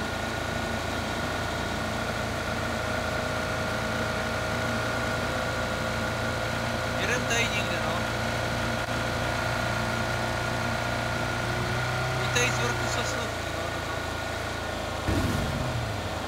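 A boat engine in the video game PUBG, a steady low idling drone that holds evenly throughout with a few faint clicks, no talking.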